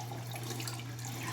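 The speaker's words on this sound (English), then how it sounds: "So, but we're getting the water ready." Tap water runs steadily into a sink as water is readied for a daily skincare routine, a continuous broadband splash with a low steady hum underneath, fairly close and unbroken.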